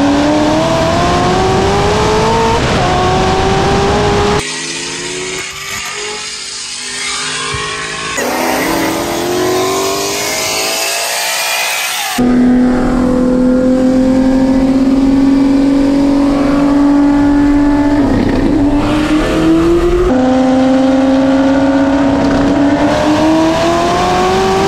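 A WorkHorse-built 2000-horsepower Nissan GTR roars loudly at full throttle on a drag strip, its engine note climbing through hard gear shifts with sustained high-revving intensity and other race cars audible nearby, no talking.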